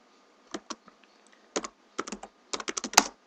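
Typing on a computer keyboard, close and crisp, with scattered single clicks and then quick runs of keystrokes ending in a sharper final tap, with no talk.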